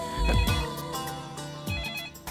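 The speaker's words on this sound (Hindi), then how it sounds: "ये साले दुबे का फोन होगा" A telephone rings in short repeated bursts, fairly close and clear, with no talking.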